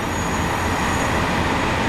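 Train rolling past in Farming Simulator 19 on the Knuston Farm map, a steady rumbling clatter of wagons on rails with faint wheel squeal, continuous and fairly close for the whole stretch.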